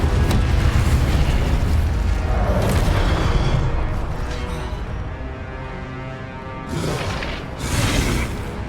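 Incendio fire spell cast in the video game Hogwarts Legacy, a loud, roaring burst of flame and boom that swells, eases off, then flares up again in two fresh surges near the end.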